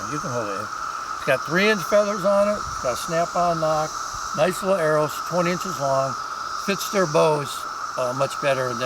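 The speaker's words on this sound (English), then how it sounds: "but we're in the 17-year southeastern Ohio cicada thing going on" Dense chorus of 17-year periodical cicadas fills the southeastern Ohio trees with a steady, loud high-pitched drone that runs unbroken beneath close conversational speech throughout.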